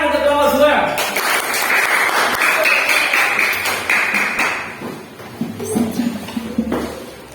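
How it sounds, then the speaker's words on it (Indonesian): A classroom of primary school pupils claps for group 2, a dense burst of applause lasting several seconds before it thins into scattered claps and voices. "tepuk tangan untuk kelompok 2"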